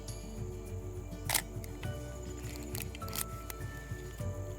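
Olympus OM-1 film camera shutter firing, heard as a couple of short mechanical clicks over steady low background noise, close to the microphone.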